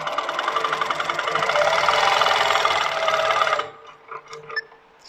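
A Pro-Stitcher Lite quilting machine stitching down fabric edges runs with a steady, rapid mechanical chatter for several seconds, then stops abruptly, leaving faint clicks and handling noises.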